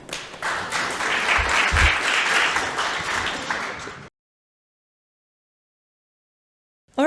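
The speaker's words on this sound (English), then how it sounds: "And a warm applause." Seminar audience applause welcoming the next presenter to the stage, a full burst of clapping for about four seconds that cuts off abruptly into silence.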